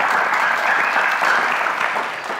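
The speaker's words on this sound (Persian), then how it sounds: "دوستا تشویقشان کنین." Studio audience on a game show bursts into steady, dense applause that holds at a near-constant level throughout, close and full with no voices standing out.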